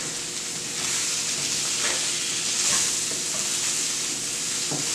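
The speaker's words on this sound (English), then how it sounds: "stir around our mushrooms." Mushrooms sizzle steadily in a hot pan as a utensil stirs them, a loud continuous frying hiss with a few soft scraping strokes, no voices.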